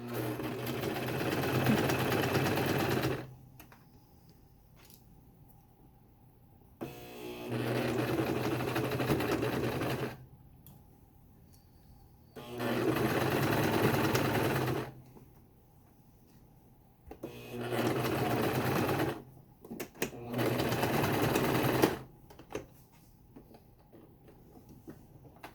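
A sewing machine stitches along the edge of a fabric face mask in four separate runs of steady whirring, each several seconds long, with quiet pauses between them.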